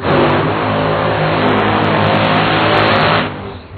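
The Coletta Motorsports DHL Toyota Camry drag race car, running Redline Oil at the 2014 Winter Warmup, roars loud and close with a sustained, buzzing engine note that cuts off sharply near the end.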